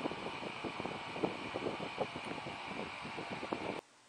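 A small solar-powered 12-volt DC fan running outdoors, a steady faint whirring hum with a fluttering rhythmic texture that cuts out abruptly near the end.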